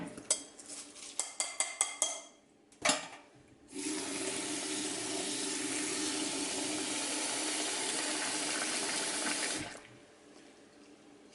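Red lentils for dhal being rinsed in a colander: rattling clatters of the bowl and handling, then a steady close rush of running tap water for several seconds before it cuts off.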